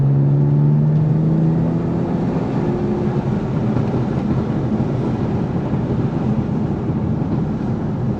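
A BMW M4 with the S55 engine and a titanium exhaust, valves open in Sports Plus mode, drones with a loud, steady low rumble from inside the moving car. The pitch climbs briefly at the start, then settles into a constant roar.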